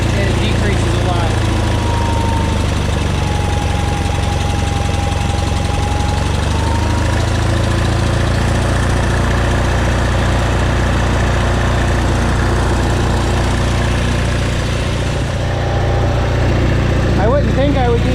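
An Onan engine idles on a John Deere 318 garden tractor, a steady low mechanical drone with a slight knock, close and continuous throughout, with its pitch sagging briefly partway through.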